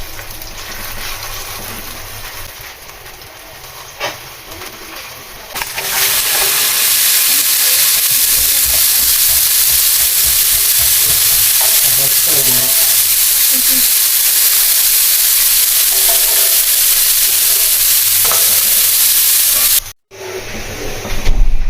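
Qeema kachori sizzles in hot ghee on a tawa, a loud, steady broadband hiss that bursts in after a quieter opening, holds for about fourteen seconds, then cuts off briefly near the end.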